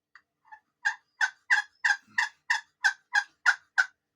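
A slate turkey call gives a run of about a dozen sharp, evenly spaced yelps, starting with a couple of soft notes, then loud and clear.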